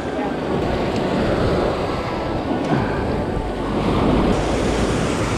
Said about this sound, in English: watch when the wave goes back right here